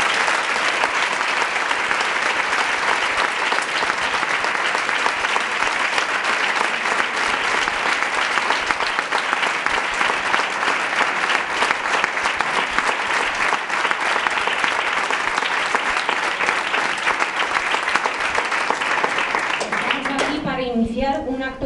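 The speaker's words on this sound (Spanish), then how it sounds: "Pedimos desde aquí un aplauso que se oiga aquí y en los lugares desde donde nos están viendo." Sustained loud audience applause at a women's rights tribunal, dense clapping holding steady for the full stretch before a voice begins speaking at the very end.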